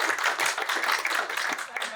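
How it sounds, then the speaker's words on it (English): Audience clapping after a beginners' class wraps up at a fest, a dense, steady patter of many hands, fairly close and moderately loud throughout. "Round of applause, thank you."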